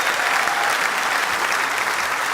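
Audience applause at a New Year stand-up comedy show, a dense steady wash of clapping from a large crowd that holds at an even, loud level throughout with no voices standing out.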